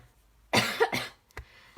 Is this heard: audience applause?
no